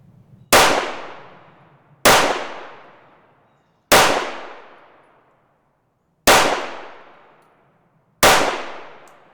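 Five loud, sharp pistol shots of Hornady 115 grain Critical Defense ammunition fire at steady intervals of about two seconds. Each crack rings out and fades, with no talk between them.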